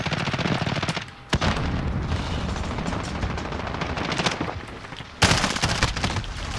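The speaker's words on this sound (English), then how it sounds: "Yep, there's a sentry gun." A sentry gun in Call of Duty Modern Warfare rattles off long, rapid bursts of automatic fire, dense and loud, with a brief lull before a fresh, sharper burst near the end.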